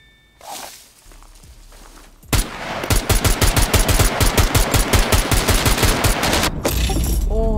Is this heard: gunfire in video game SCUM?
yes